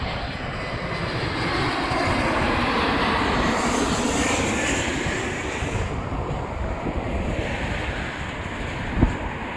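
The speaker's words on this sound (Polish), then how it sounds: "Właśnie leci samolot." An airplane passes overhead near Randy's Donuts by the airport, a loud, continuous roaring engine rush that swells and holds for the whole stretch with no voices.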